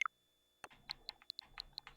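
Computer keyboard clicks at close range during a game stream: a sharp tap, a pause, then a quick irregular run of crisp keystrokes and clacks, with no talking.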